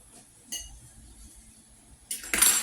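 Pork medallions are loaded onto a plate, heard as a faint clink and then a louder clatter of utensils against the dish near the end, close by and with no speech.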